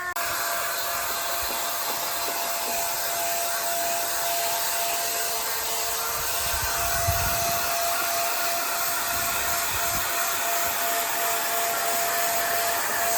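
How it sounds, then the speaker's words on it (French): A small spray paint machine painting a mobile home gives a steady, loud, unbroken hiss and motor whine, with a faint tonal hum underneath throughout and no voices. "il avait une petite machine à spray paint"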